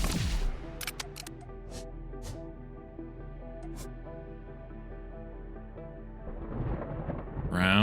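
Thunder in the video game Outworld Station crackles with sharp cracks at the start, then a long low rumble rolls steadily underneath before swelling again near the end.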